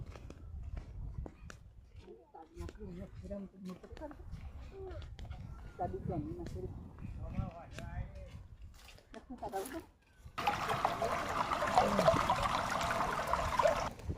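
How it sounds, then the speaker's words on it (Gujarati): Broadband rushing of water flowing through a wheat field, loud and steady near the end after a stretch of outdoor talk and footsteps. "પાણી જતું તું જો"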